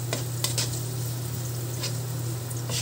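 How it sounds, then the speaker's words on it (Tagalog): Onion and garlic sauté in a pan with annatto, giving a steady close sizzle and frying hiss with a constant low hum underneath and a few soft stirring scrapes. "naggigisa na tayo ng sibuyas, bawang"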